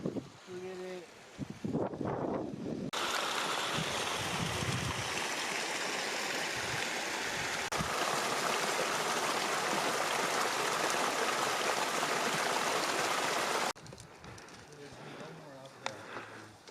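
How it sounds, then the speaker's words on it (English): A mountain stream in the Colorado Flat Tops Wilderness rushes steadily and loudly close by for most of the stretch, a broad continuous wash of water, with a few footsteps and handling sounds before and after. "Beautiful stream here, look at this."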